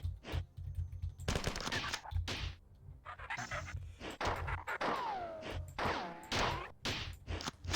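Gunfire in the classic shooter Marathon as leftover ammo is spent: a run of sharp, loud bursts and single shots fired in quick clusters, with short gaps and game effects between them.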